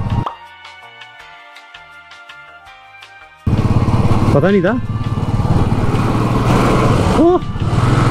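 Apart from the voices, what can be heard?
scooter engine speeding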